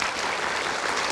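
Steady clapping from an audience for Hanta Yuda, executive director of Poltracking Indonesia, at a televised political discussion, a short dense burst of applause with no voices over it.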